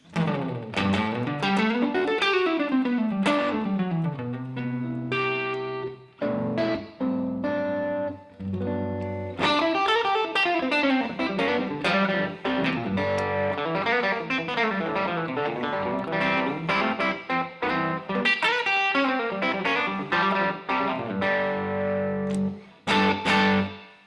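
An electric guitar through a Lovepedal Tchula overdrive pedal plays a lively riff with sliding bends and chords, gritty and sustained, played alone with no voices.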